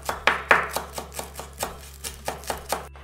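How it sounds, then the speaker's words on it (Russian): A knife finely chopping parsley on a cutting board, about a dozen quick, regular thuds close by with no talking. "Мелко нарезаем немножко петрушки."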